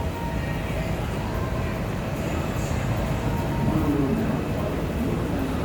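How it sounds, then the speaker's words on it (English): Las Vegas Monorail train running southbound along its elevated track, a steady low rumble and rolling hum with faint whine filling the car throughout, fairly loud and continuous with no speech. "This monorail continues southbound."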